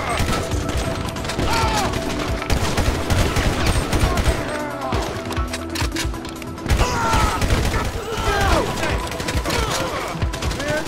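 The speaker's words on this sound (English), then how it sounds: "some dude just popped me with a shotgun" Rapid video game gunfire from Grand Theft Auto crackles in dense bursts amid explosions and mechanical clatter, loud and continuous throughout, with players talking over it.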